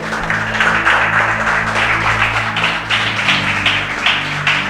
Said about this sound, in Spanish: Dale un aplauso al Señor, hermano, si tú crees esto